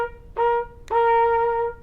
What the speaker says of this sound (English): I'm going to play it on a trumpet today here.